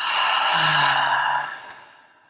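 A single slow, breathy exhale out through the mouth during a pranayama breathing exercise, close and soft, fading out gradually.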